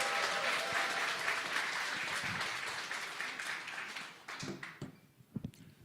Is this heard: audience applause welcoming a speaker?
yes